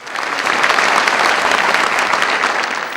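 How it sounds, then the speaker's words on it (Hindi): A large audience at an Urdu poetry mushaira in Agra claps loudly, with a dense, sustained wash of applause filling all three seconds. "आप तालियों की गूंज में बता दीजिए"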